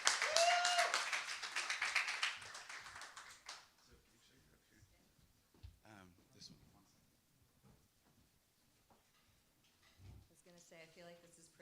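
Audience applause and clapping at a startup demo day event, loud at the start and fading out within a few seconds, followed by quieter room sounds and scattered talk.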